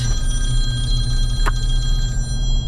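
A business telephone rings in one continuous electronic trill over a loud, constant engine-like rumble, with a single sharp click midway and no talk.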